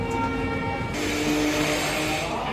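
A train runs on the Shalimar to Puri line near Kharagpur station, giving a steady, continuous rumble with a faint hum above it. The sound is heard close up, without talk.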